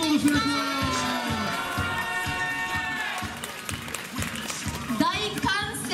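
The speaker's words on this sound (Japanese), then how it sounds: "大歓声" Loud crowd of fans cheering at a Chunichi Dragons baseball event, a dense roar with high shouts and children's voices that rises again at the end, while a presenter talks over it.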